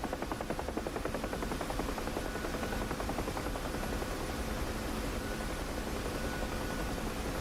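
Helicopter rotor in the DCS World flight simulator, set in Cold War Germany, during a rapid descent: a steady, loud rhythmic chop over a dense engine and turbine roar, constant throughout with no talk.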